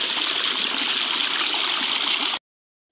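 Water runs steadily through a village field, a continuous rushing flow heard up close with no voices, cutting off abruptly near the end.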